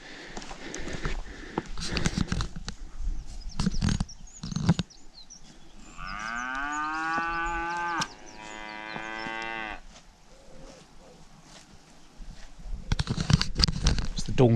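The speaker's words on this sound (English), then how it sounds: "It's the dawn chorus of cows." A herd of cattle on Dartmoor lets out several long, loud moos in the middle, framed by wind buffeting, rustling and a voice talking briefly.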